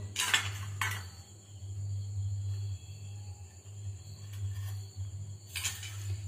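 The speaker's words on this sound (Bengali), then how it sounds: "তারপর একটা ব্রাশের সাহায্যে সবকটা বাটিতে তেল লাগিয়ে নেব।" Small steel bowls for rava idli clink and clatter a few times while oil is brushed inside them, with a steady low kitchen hum running underneath and no talking.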